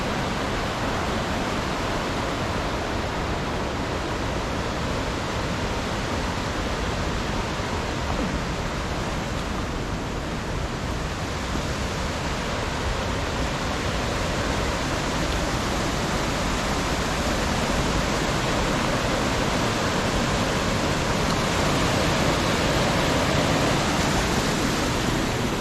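Upper Whitewater Falls along the Foothills Trail, a constant loud rushing roar of falling water, steady and unbroken throughout with no voices.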